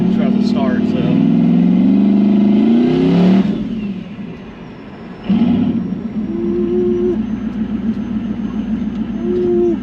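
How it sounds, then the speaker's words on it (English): Chevrolet Camaro engine roaring loud and close, surging high as it starts, dropping briefly, then catching again and settling into a rough, throbbing idle with small rev blips. "it revs up really high when it tries to start"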